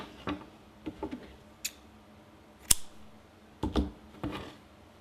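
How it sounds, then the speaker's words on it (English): Scissors cut crochet yarn in a handful of quiet, sharp snips spaced irregularly over a few seconds, close by in a near-silent room. "Slip stitch, then we can cut the yarn."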